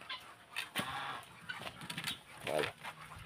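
A farm chicken clucks nearby in short, irregular bursts, fairly faint and mixed with background voices and outdoor noise.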